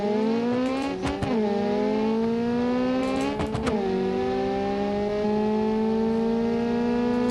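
An autocross race car in BeamNG.drive accelerates hard, its engine pitch climbing through the gears with brief breaks at two quick shifts, loud and close with no talk.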